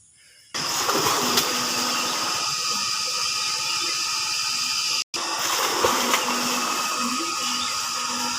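A steady electric water pump motor hum on a farm starts abruptly and runs continuously, loud and close, with a brief cutout midway before resuming.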